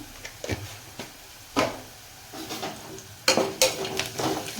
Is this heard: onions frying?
yes